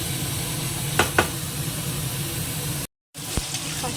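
Potato, onion and carrot fry in a pan with a steady, close hiss of sizzling oil, a couple of sharp utensil clinks, and a brief cut in the sound near the end.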